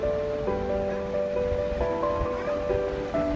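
A kitchen mixer grinder whirs steadily as it grinds peanuts and green chillies with cumin, salt and a little water into a smooth paste for a tamarind pachi pulusu. The dense grinding noise is continuous and sits under tonal background music.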